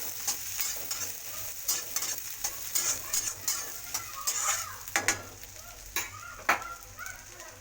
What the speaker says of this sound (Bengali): পেঁয়াজটা লাল লাল করে ভেজে নিতে হবে।